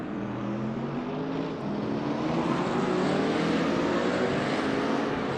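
Race cars lap the Norisring street circuit in a touring-car race including a McLaren 650, a steady loud engine roar swelling slightly as cars pass, with no voices.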